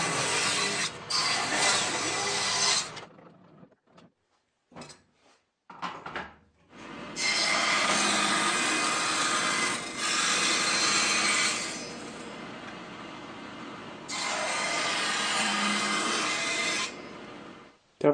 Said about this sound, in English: Dovetail rail cut.